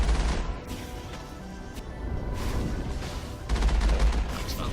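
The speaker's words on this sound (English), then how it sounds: "which allows me to fire the cannon." Heavy vehicle cannon fire in Mass Effect booms and crashes in bursts, loud and close, with a rumbling barrage through the middle and a stronger blast near the end.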